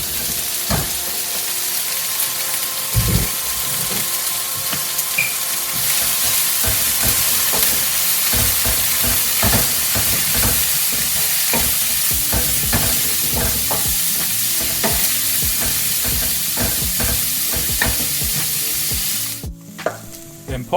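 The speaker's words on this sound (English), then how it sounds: "First of all, fry up your onions and peppers" Onions and peppers frying in a pan, a loud, steady hiss of sizzling fat with scattered crackles and pops, heard close for about twenty seconds before it cuts off sharply near the end, with no speech.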